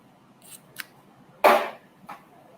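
Scissors snip through small fabric scraps in a few separate cuts, one louder and sharper than the rest, close at hand in a quiet room.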